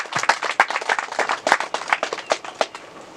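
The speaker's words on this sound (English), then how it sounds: "Let's give another round of applause to the CEO." Applause for a company CEO at a groundbreaking ceremony: a dense run of many hands clapping, steady and fairly close, with sharp overlapping claps for about three seconds and no voices on top.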